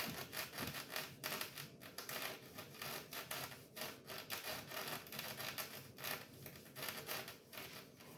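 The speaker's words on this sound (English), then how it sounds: "And then just a little steel wool on the fingerboard." Fine steel wool rubs steadily over a wooden guitar fingerboard on a budget kit guitar, giving a continuous soft scratchy hiss with short back-and-forth strokes, close and fairly quiet.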